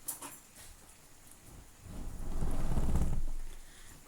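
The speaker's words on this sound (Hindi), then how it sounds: "बारिश होने लगी अचानक से, बहुत शोर आ रहा है।" Sudden rain heard through an open window, swelling from a faint patter into a loud, steady rushing roar with deep low rumble, then easing slightly toward the end.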